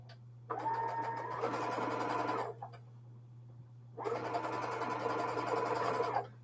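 A sewing machine stitches a seam in two steady runs of a couple of seconds each, with a pause between them, close and clear over a constant low hum.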